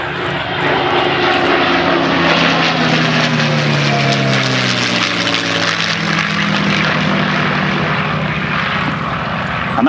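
A pair of propeller aircraft flies low over an airfield during a run and break at an airshow, engines droning loudly and steadily throughout with a shifting pitch as they pass.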